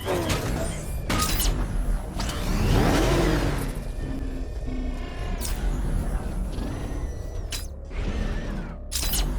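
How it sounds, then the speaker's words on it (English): Vehicle engine revving amid mechanical creaks and clatter during a chase in Batman: Arkham Knight, with a swelling crash-like burst midway and continuous, fairly loud grinding motor noise throughout. "The Arkham Knight's vehicle swerved and crashed up ahead."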